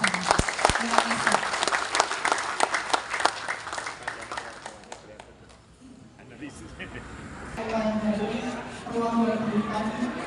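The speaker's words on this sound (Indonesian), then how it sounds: "Boleh tepuk tangan bersama." Audience applause at a mangrove planting ceremony marking Nyepi, a broad crowd clapping that is loud at first, then thins and fades into an announcer's voice and background chatter.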